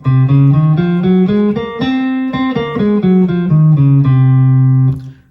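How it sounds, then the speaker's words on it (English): A guitar runs through the C Locrian scale, with single picked notes rising then falling at a steady pace and ending on a sustained low tone, close and alone. "Locrian, C Locrian sounds like this."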